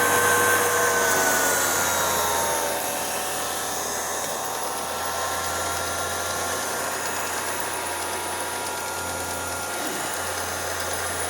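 A Keystone CC-8 8mm film projector's motor runs with a smooth, steady hum and a whirring mechanical drone, close and continuous, easing slightly in level early on.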